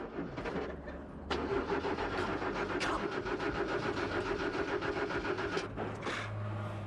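Car engine cranking repeatedly without catching, a flooded engine with recently gapped spark plugs, the starter whirring steadily for several seconds, close and fairly loud, with no talk over it.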